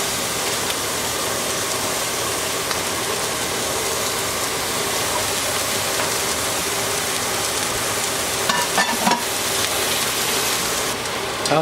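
Hamburger patties frying in a pan for burgers with cheese sauce, giving a steady, loud broadband sizzle like rain that runs the whole time, with a few brief clinks near the end.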